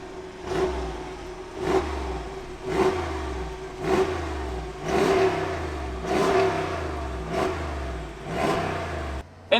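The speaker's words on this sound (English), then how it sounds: "Listen to that engine." The engine of a 2022 Jeep Grand Wagoneer Series 3 revs in a steady rhythm, about eight repeated swells with a constant mechanical whine underneath, moderately loud and without talk.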